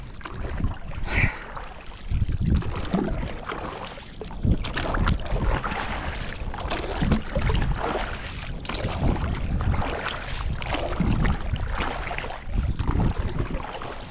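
Oars paddle a thermocol raft toward shore on the open sea, with steady watery sloshing and splashes under constant wind noise.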